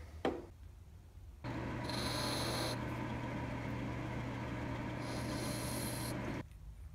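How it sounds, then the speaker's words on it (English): A lathe chamfering the edges of a spindle thread protector: after a short knock, the machine hums steadily while the tool scrapes and hisses in two brief brighter bursts, then the cut stops. "we're gonna chamfer these edges"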